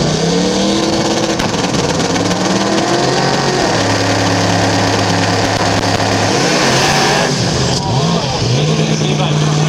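Drag racing cars at the Willowbank, Queensland raceway idle down the track after a run, their engines droning loudly with shifting pitch, under continuous excited commentary.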